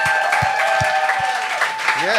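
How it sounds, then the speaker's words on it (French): A television comedy show audience applauds a comedian with a burst of clapping, under a loud voice speaking over it and ending with a rising vocal sound. "Mesdames et messieurs, un tonnerre d'applaudissements pour Gabriel Bourque!"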